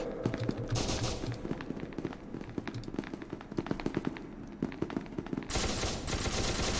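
Repeated volleys of gunfire crackle through the SCP: Secret Laboratory video game, coming as sharp, loud shots in irregular clusters, with a dense burst near the end.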